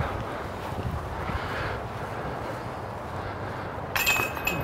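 Disc golf putt dropping into a basket's metal chains during a windy outdoor match, a brief bright clink and chain rattle near the end, heard over steady wind rumble.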